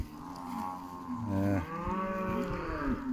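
Several beef cattle moo nearby the day after calves are weaned, long low bellowing calls overlapping one another, with a faint outdoor background.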